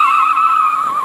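Suzuki Jimny and Peugeot 205 GTI launching side by side in a drag race: a loud, steady, high-pitched engine and drivetrain whine holds throughout, with no talking.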